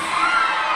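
An audience at a live forró show shouts and cheers in a dense, sustained roar of many voices, loud and continuous with no pauses.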